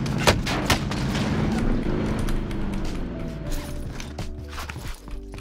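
Gunfire in the video game Call of Duty Warzone, with sharp scattered shots and clicks over a steady mechanical rumble and whine, fairly close and without talk.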